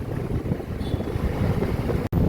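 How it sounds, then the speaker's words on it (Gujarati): Strong wind buffets the microphone of a moving motorbike in a steady low roar, gusting without pause, with a brief cut near the end. "ફૂલ પવન ચાલુ થઈ ગયો છે અત્યારે."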